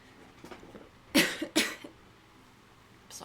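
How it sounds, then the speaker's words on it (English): Two sharp, close coughs in quick succession, loud against a quiet room, followed by a faint rustle. "Just a little cough."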